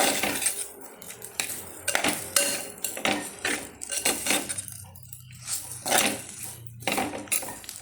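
A spoon scraping and clinking against a pan as idli is stirred into curry, with close, irregular metallic clatters and scrapes throughout.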